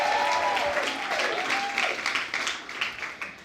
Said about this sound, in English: let's give another round of applause to her for rocking it